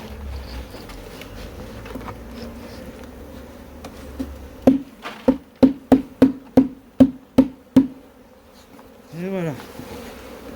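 A honeybee swarm hums steadily around a hive in a garden. Midway comes a rapid run of about ten sharp, evenly spaced taps, followed by a brief rising whoosh near the end.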